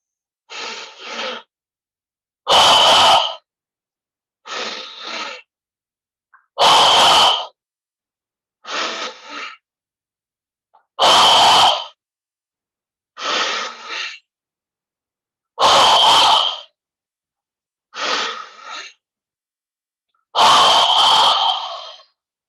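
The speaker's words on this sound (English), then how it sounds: "ready for 5 double breaths in the chest" Yoga double breaths through the chest repeat in a steady rhythm, each a short inhale followed by a longer forceful exhale, close and loud with silence between, ten bursts in all and no speech.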